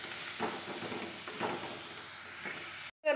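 Crab legs sautéing in a hot pan for a Kerala-style crab roast give off a steady soft sizzle and hiss, with a few bursts of stirring clatter, close and fairly quiet, then cut off abruptly.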